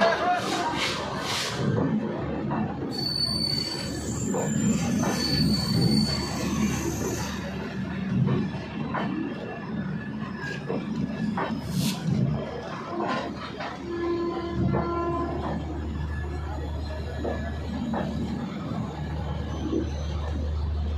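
Gorakhpur - Panvel Superfast Express train departing Lucknow Charbagh railway station, with a steady rolling rumble, brief metallic squeals and station crowd chatter and voices throughout.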